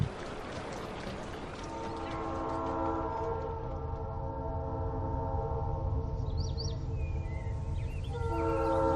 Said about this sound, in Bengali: ওয়াটারলু স্টেশন থেকে ট্রেন ধরে 1 ঘন্টার মধ্যেই পৌঁছে গেলাম ওকিংয়ে